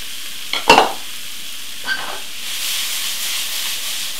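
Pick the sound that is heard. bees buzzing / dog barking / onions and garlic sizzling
onions and garlic sizzling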